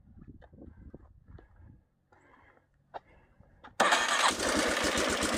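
A Warrior 350 engine with a cracked exhaust baffle cranks and catches at about four seconds, then settles into a loud, steady rasping run after some earlier quiet clicks and handling noises.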